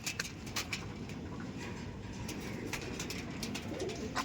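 Soft, low pigeon cooing from Andhra pigeons in a loft repeats steadily at close range, with faint fluttering taps scattered throughout and no talking.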